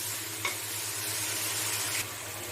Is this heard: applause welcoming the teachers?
no